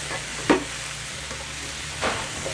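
Mushrooms sizzle softly in a pan, with two brief stirring scrapes breaking the steady low frying hiss.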